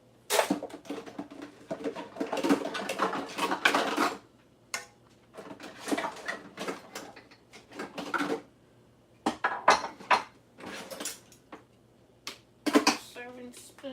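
Dishes and a serving spoon washed by hand in a kitchen sink, with repeated clinks, scrapes and clatters of crockery and cutlery in irregular bursts between short pauses.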